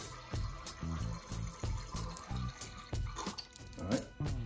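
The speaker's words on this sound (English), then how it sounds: "And then we're gonna put, close to 1/4 of lime juice in there." Lime juice is poured over raw snapper for ceviche in a series of short, close splashing drips and trickles with brief gaps, with no talking.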